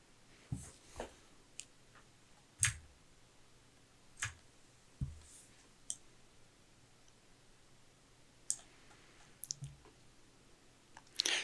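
Sparse, faint clicks of a computer keyboard and mouse during image editing in GIMP, scattered singly and in small pairs over a quiet background with no talking.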